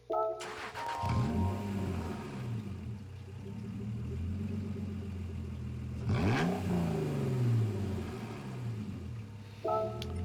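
A 2002 Honda NSX Type R engine in the video game Gran Turismo 7 cranks and fires up, idling with a low rumble, then revs sharply once more midway; faint speech near the end.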